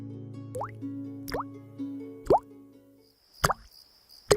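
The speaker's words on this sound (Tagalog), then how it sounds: "Pumapatak ang tubig ulan at tumatama ito sa arinola ng matanda kaya tumutunog." Rainwater dripping through a hole in a bedroom ceiling into an old man's chamber pot, five separate hollow plops spaced about a second apart over a low background hum.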